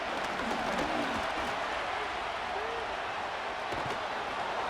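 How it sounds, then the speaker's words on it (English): A football stadium crowd at an NFL Global League playoff game, San Antonio Bulls at Orlando, roars in a steady, dense wash of cheering that holds for the whole stretch, with brief whistles and shouts rising above it. "This crowd doing all they can."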